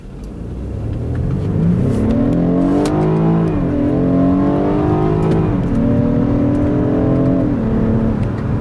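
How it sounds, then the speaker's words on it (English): A 2016 BMW 328i's engine revs up loudly through several gears in manual sport mode, pitch climbing and dropping at each shift, with constant road and engine roar throughout. "we'll do a little bit of an acceleration run here"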